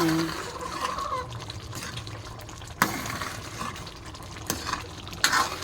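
Eggs frying in a pan, with a continuous sizzle under scattered metallic scrapes and taps of a utensil, close by and moderately loud.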